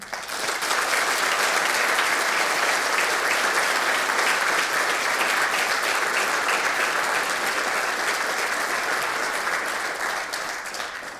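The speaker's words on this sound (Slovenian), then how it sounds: "zdaj pozdravimo z aplavzom" A hall full of people applauds top local athletes at a municipal sports awards event in Slovenske Konjice, steady dense clapping that holds for over ten seconds before easing slightly at the end.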